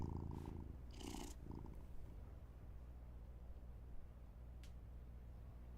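A cat purrs in the video game Life is Strange: Double Exposure, a steady low rumble running throughout, with a couple of brief soft game sounds near the start.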